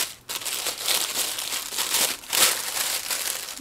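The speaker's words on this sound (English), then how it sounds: "So everything's wrapped in tissue paper." Tissue paper wrapping a MAC advent calendar beauty item is unwrapped up close, crinkling and rustling continuously in loud, uneven bursts.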